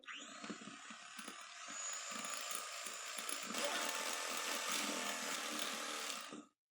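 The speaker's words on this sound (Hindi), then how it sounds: "अब हम चीनी को भी मिक्स कर लेंगे।" An electric beater whirs continuously, mixing powdered sugar into beaten egg yolks for a mug fruit cake, a close, steady buzzing drone that swells slightly midway and cuts off abruptly at the end.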